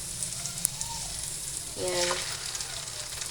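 Beaten egg hitting a hot pan of leftover rice for garlic fried rice with hotdog, a steady sizzle that swells as the egg goes in, with a brief spoken word over it.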